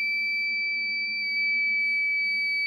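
A steady, shrill high-pitched tone from the low-voltage alarm on an AIMS PWRINV250024W power inverter, sounding continuously and loudly over a low background hum.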